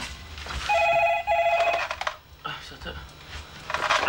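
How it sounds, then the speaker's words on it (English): A telephone bell rings loudly in a house, two bright trilling bursts followed by clattering household noise and a shorter final ring. "Phone call."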